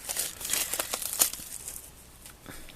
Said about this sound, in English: You just slide the plastic wrap off.